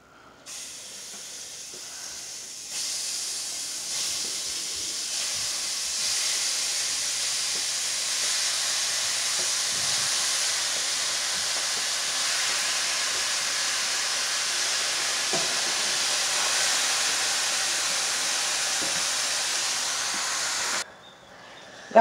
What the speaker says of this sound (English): I'm gonna add my meat in the pan